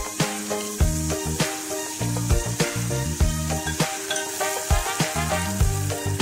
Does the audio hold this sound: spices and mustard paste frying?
yes